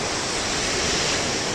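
Roaring surf from huge 40-foot ocean waves, a loud continuous broadband rush close to the microphone, steady throughout and with no voices.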